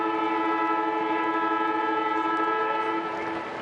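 A long, steady siren blares across an Australian football stadium during an AFL match between Fremantle and Melbourne, marking the end of a quarter. The tone holds loud and unbroken with no voices, easing slightly only at the very end.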